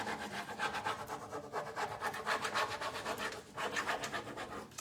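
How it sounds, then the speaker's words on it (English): Decor background transfers being rubbed down over a stencil, a steady close scratching and rasping in quick back-and-forth strokes, with a brief pause partway through and no speech. "rub on my background transfers"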